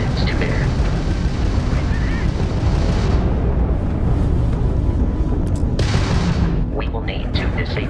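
Crimson Fleet pirate ship weapons firing during space ship combat in Starfield: dense continuous booming and blasting, loud and sustained, with a few sharper bursts near the end.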